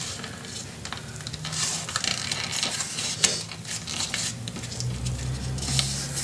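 Paper being folded and creased by hand to form a gusset for a trifold mini album, with a series of close, crisp crinkles and soft scrapes and one sharper snap near the middle.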